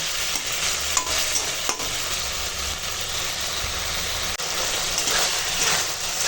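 Okra fries with mustard-poppy paste in a vegetarian dish, a loud, steady sizzle with a few faint clicks from stirring, close by and with no talk.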